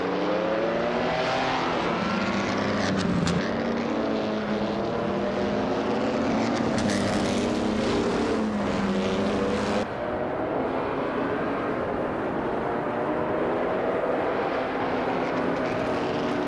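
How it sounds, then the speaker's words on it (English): Ferrari 375 F1 racing car engine, a continuous loud mechanical roar with shifting pitch as it runs at speed on a circuit, with no speech. "Amy is currently in 6th place with her Ferrari 375 F1"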